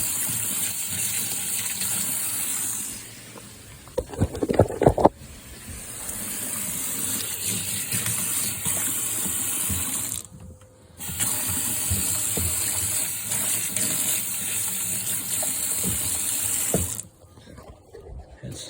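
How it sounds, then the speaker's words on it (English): Fluid drains out of a car in a continuous gushing, splashing stream, with brief pauses and a burst of clattering handling noise near the start. "It's still draining out."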